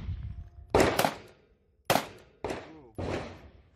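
Four sharp gunshots from a Glock 17 cut down to Glock 19 size and fitted in a micro conversion kit chassis, loud and close: two in quick succession, a pause, then two more spaced apart.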